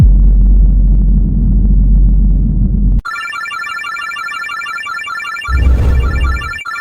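A bright, ringing bell tone sounds as a notification alert, following a low rumbling section, with a louder low-frequency burst partway through and no speech.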